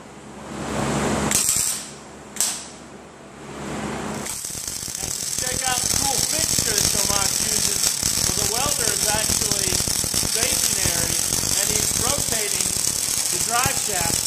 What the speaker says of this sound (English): the welder is running on its own